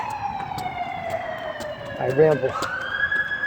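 An ambulance siren wails, sweeping slowly downward and then rising again, steady and fairly close as it passes, while a person briefly speaks over it.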